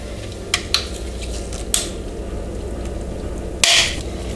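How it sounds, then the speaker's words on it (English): A 5 mm Allen key works the valve cover bolts on a Honda S2000 with an 18-year-old valve cover gasket, producing a few sharp, isolated metallic clinks over a quiet garage background. "Gonna need a 5 millimeter Allen to take off this valve cover."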